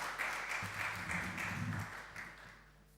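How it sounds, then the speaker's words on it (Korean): A church congregation at a Sunday service applauds to welcome the pastor to the pulpit, making a soft, diffuse wash of clapping that holds steady and then fades out. A low murmur is faintly audible underneath. "나오실 때 우리 환영하는 의미로 박수로 환영하겠습니다"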